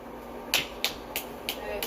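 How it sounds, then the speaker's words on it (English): A child claps their hands five times in a quick, evenly spaced run of sharp, close claps over a low indoor hum. "clap for yourself"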